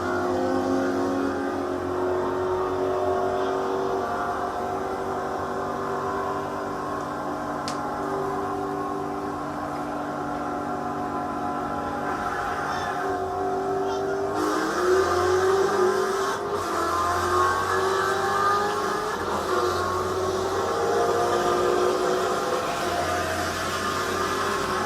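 A Shelby GT500 muscle car accelerates hard in second gear at high RPM, its engine roaring loud and continuous for the whole stretch with a shift in pitch about midway.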